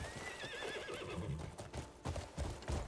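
A horse in the video game Crimson Desert gives a wavering whinny, followed by clip-clopping hooves that grow louder and more pronounced toward the end, all fairly faint and without talk.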